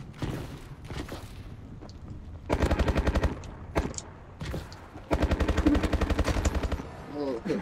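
Automatic gunfire from hip-firing a weapon in Call of Duty: Advanced Warfare, with loud sustained bursts of rapid shots separated by short pauses and several brief single bursts, with a voice speaking between them.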